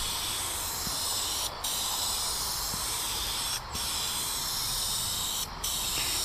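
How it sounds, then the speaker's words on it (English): Wood finish sprays from a spray gun onto a scrap 2x4 table leg in a steady, close hiss that breaks off briefly three times at regular intervals between passes. "Real important when spraying, do not stop and start your spray pass on the board"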